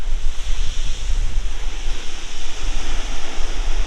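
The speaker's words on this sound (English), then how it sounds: "Bit of a sea running now." Rough sea surf rolling onto the Suffolk coast under a strong wind, a loud, steady roar of breaking waves and gusting wind buffeting the microphone, continuous throughout with no talking.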